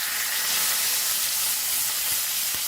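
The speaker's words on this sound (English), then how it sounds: "fry this" Tuna fish frying with curry leaves in a pan for a Goan recheado fish fry, giving a steady, loud, broadband sizzle and hiss that runs continuously with no talking.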